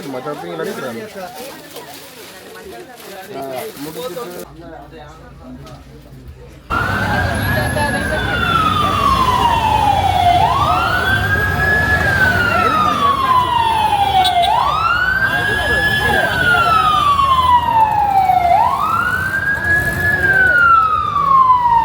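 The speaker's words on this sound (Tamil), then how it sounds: "தீயணைப்பு வண்டி போய் கொண்டிருக்குது பாருங்க" A loud wailing fire engine siren rises and falls in long repeating sweeps, close by, over traffic rumble on a street in Colombo, Sri Lanka.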